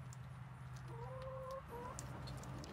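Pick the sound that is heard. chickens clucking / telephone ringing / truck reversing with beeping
chickens clucking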